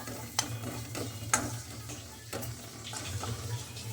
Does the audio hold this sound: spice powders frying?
yes